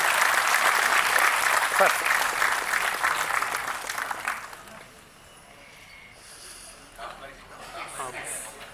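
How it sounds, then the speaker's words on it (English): An audience at an inaugural conference session claps for its speakers, full applause that fades over a few seconds, then a voice speaks briefly afterward. "let's give all our speakers another round of warm applause for their gracious presence here today"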